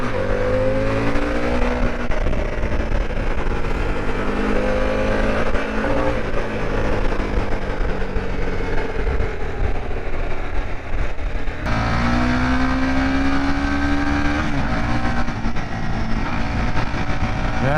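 Harley-Davidson Street Bob 114 motorcycle, a new 2022 bike in off-white cream, riding at speed with a loud continuous engine drone and wind rush, the pitch rising and falling with gear changes and throttle.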